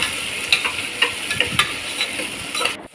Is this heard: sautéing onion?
yes